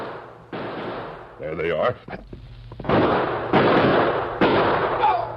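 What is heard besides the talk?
gunshots in a radio drama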